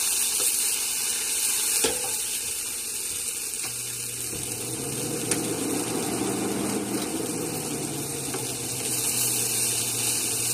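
Onions browning in grapeseed oil in a pan, a steady soft sizzle and crackle running throughout, fairly quiet with a faint low hum beneath.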